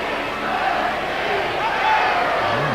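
A packed LSU cheering section roars steadily at a College World Series championship baseball game against Wichita State, a dense, continuous crowd din that swells slightly near the end.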